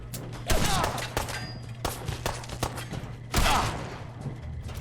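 Fallout 4 gunfire aimed at the player, rapid sharp shots in bursts with heavy impacts at the start and again after three seconds, over a steady low game hum.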